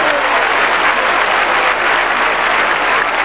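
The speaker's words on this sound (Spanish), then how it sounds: "Ahí está, un fuerte aplauso para Tito y Jota." A crowd applauds loudly and steadily at an outdoor recortes bull-leaping event in Vinaroz, a dense, continuous clapping that fills the whole stretch.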